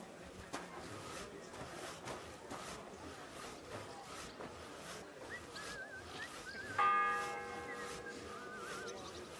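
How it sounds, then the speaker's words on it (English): Town bell ringing in Kingdom Come Deliverance 2, a single loud resonant strike that rings out and slowly decays over a faint background of murmuring town ambience. "It's the 8th bell. I need to hurry."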